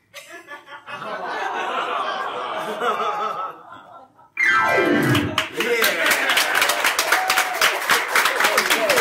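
An improv comedy audience first chuckles and laughs over stage talk, then bursts into loud, dense applause for the volunteers that holds steady to the end.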